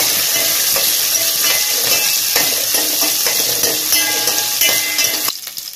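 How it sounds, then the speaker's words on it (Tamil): Small onions sautéed in a pan for a karunai kizhangu puli kulambu, a loud steady sizzle with stirring scrapes close by, cutting off sharply near the end. "அடுத்து சின்ன வெங்காயத்தை போட்டு நல்லா வதக்கலாம்."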